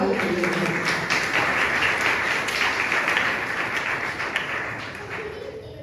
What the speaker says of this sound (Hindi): आइए जोरदार तालियां उसके जलाल के लिए।